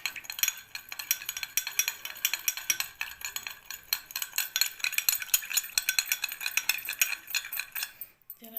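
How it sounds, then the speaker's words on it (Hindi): A spoon stirs salt into vinegar, making rapid, rhythmic metallic clinks against the container. The stirring is close and steady and stops abruptly near the end. "इसके अंदर हम ये नमक डालेंगे 1 टीस्पून और इसको अच्छी तरह से मिक्स करेंगे"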